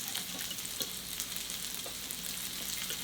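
Peppers frying on a raclette grill give a steady, close sizzle with dense crackling and small pops throughout, no one speaking.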